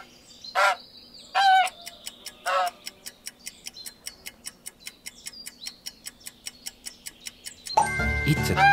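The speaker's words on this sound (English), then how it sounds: "It's a goose." A goose gives three short, loud, nasal honks spaced about a second apart, followed by a steady run of sharp ticking clicks. A brighter burst of sound comes in at the end.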